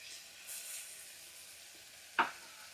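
Beans cut lengthwise are dropped into a hot pan for vegetable pulao, giving a faint steady sizzle with a brief hiss swell early and one short sharp clatter near the end.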